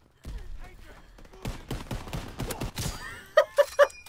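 Call of Duty WW2 gunfire with M1 Garand shots, followed by three quick, bright, ringing headshot hit tones in close succession near the end, loud and distinct over the game noise.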